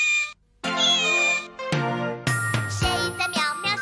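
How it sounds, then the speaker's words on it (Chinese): A cat meows several times in quick succession, clear and close, with a brief gap near the start and a light jingling alongside, no talk. "谁在喵喵叫？"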